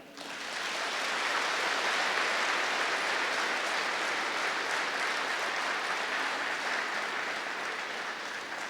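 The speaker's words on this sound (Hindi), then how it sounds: "ताली बजाओ।" An audience at a spiritual gathering claps together, a dense, steady wash of applause rising quickly and holding evenly for several seconds before tapering slightly, moderately loud and without speech.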